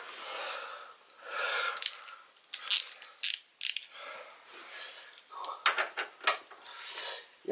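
Ratchet snugging up 14mm bolts on a Yamaha YXZ drive shaft, heard as short bursts of rapid clicking with gaps between them, close up and fairly quiet, with no talking.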